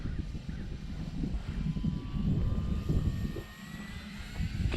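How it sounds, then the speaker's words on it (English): A four-cell-battery RC Air Tractor model plane drones overhead with a continuous electric motor whine rising and falling as it passes, heard alone over rumbling wind noise. "Flying on a 4S P&P air tractor"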